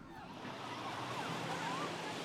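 Ocean waves on an overcrowded beach, heard as a continuous wash of surf with faint wind, soft and distant, with no clear voices.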